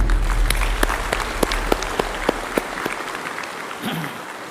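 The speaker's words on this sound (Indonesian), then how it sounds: "Kita berikan aplaus dulu semua." Applause for newly sworn civil servants and government contract staff at an outdoor ceremony in Badung regency, a steady clapping crowd with sharp individual claps standing out, which tapers off toward the end.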